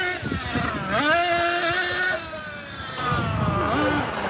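A Team Losi 8ight 1/8-scale nitro RC buggy engine running outdoors: a high, rising and falling whine that revs up and eases off, steady and fairly close, with a voice talking over it.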